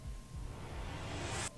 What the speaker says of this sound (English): we get a reverse impact.